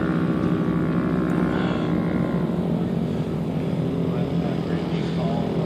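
A Raptor turbo ATV engine runs steadily at Utah sand dunes, a loud continuous buzzing drone with outdoor wind noise throughout.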